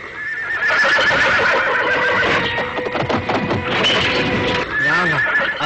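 A horse in an animated Jungle Book episode neighs loudly and repeatedly, whinnies rising and falling over hoof clatter, close and continuous with no talk.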